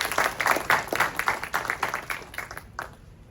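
Audience applause for a student presenter at a Santa Monica College Shark Tank-style entrepreneur event, a dense patter of clapping that rises in waves and then thins out and fades.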